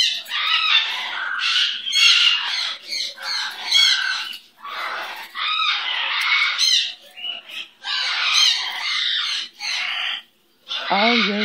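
A pet bird squawks and screeches in loud, harsh bursts close by, in several long runs separated by short pauses.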